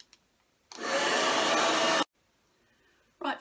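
A hair dryer drying paint on a plaster heart roars steadily for over a second, then cuts off abruptly, with a brief second burst starting right at the end; close and loud, no voices.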